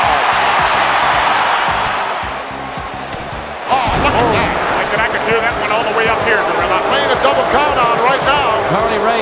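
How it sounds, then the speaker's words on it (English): Roaring arena crowd in a WWE 2K wrestling video game, a steady loud swell that dips briefly then surges back, with commentary voices running over it. "Listen to this crowd."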